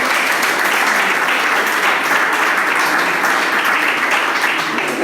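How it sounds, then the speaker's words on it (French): A school audience gives sustained, dense applause, a steady wash of many hands clapping at an even, fairly loud level for several seconds with no pauses. "On applaudit, s'il vous plaît."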